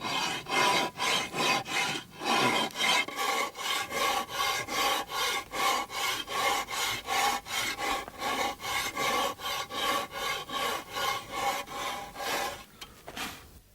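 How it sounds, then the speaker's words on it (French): A large rasp files a wood sculpture, steady rhythmic rasping strokes of about two per second, loud and close, that continue without a break. "maintenant je peux travailler à la grosse lime"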